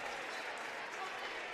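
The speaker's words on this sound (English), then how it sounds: "Nice round of applause for the other Blue Jays." A crowd applauds in a school gym as varsity basketball players check in for the Blue Jays, steady clapping sustained throughout, with a voice over the noise.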